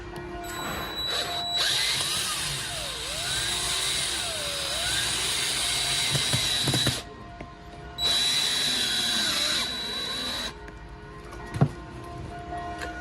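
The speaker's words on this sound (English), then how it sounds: "Accu drill machine." A cordless drill whirs steadily at close range, stopping briefly and then starting again for a second long run before falling quiet.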